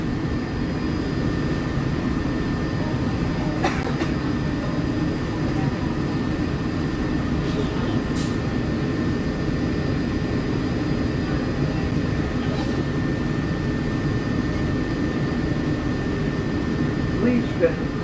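Riding a Disney monorail: a steady low rumble and drone of the moving train cabin fills the whole stretch, close and continuous, with faint clicks and a brief chime-like tone near the end.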